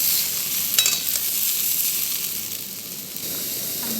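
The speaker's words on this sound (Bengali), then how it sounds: "খুব সুন্দর ভাজা ভাজা হয়ে যাচ্ছে আলুটা" Potatoes fry in a pan, a steady close sizzle and hiss with occasional faint stirring scrapes, no voices.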